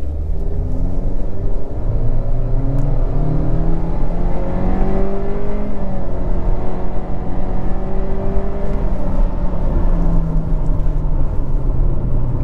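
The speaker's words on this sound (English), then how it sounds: "we're just going to floor from a standstill." A 2023 Honda CR-V EX-L AWD in sport mode floored from a standstill: a steady, loud engine drone builds and rises continuously through the run, with no gear breaks and only cabin road rumble beneath it.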